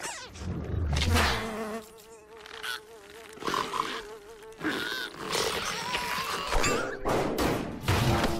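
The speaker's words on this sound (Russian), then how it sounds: "Муха." A cartoon housefly buzzes loudly and erratically close by, its whine rising and falling in bursts with a few comic thumps mixed in, and no talking.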